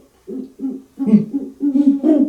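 A person imitates a great horned owl with a series of deep, breathy hoots, about six pulses in a loose rhythm, loud and close, with no other talk.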